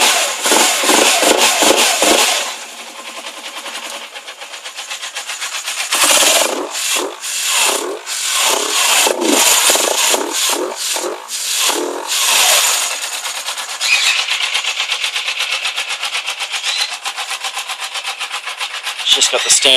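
A cold Suzuki GS500 motorcycle with a K&N lunchbox air filter and standard exhaust idles loudly, with a burst of rapid, rhythmic pulsing blips in the middle before it settles back to a steady idle.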